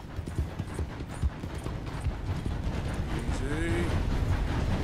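Horse hooves clip-clop steadily in Red Dead Redemption 2, a rhythmic stream of hoofbeats over a busy game soundscape, with a brief tonal call rising near the end.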